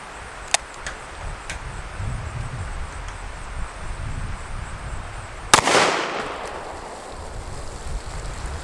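Rifle shots from a Smith & Wesson in 350 Legend firing 170 grain Hornady American Whitetail ammunition outdoors: a faint sharp crack early, then one loud close blast with a ringing decay, over quiet ambient background.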